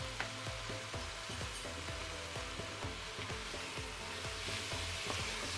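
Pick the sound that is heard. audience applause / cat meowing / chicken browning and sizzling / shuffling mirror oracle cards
chicken browning and sizzling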